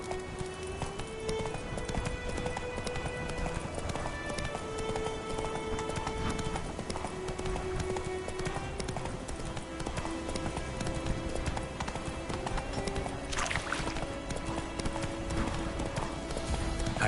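Hoofbeats of Roach, a horse in a video game, galloping in a steady clip-clop rhythm over continuous game music and ambience, loud and close throughout.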